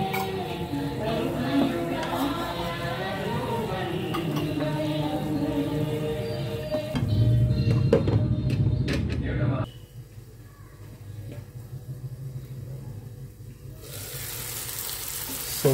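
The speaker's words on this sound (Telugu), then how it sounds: "మధ్య మధ్యలో కలుపుతూ ఉండాలి. సో మధ్య మధ్యలో ఇలా కలుపు." Banana flower curry cooking in a pan, with sizzling and frying and occasional stirring scrapes. A person talks over it for most of the clip, and the sound drops quieter after about ten seconds before a hiss returns near the end.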